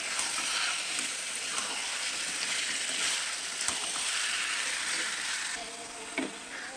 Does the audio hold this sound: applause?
no